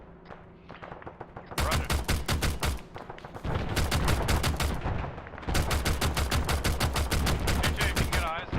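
Heavy grenade machine gun fire in the military game Arma, long loud bursts of rapid, rhythmic thumping shots in two extended volleys separated by a pause, with a brief radio voice before the firing begins.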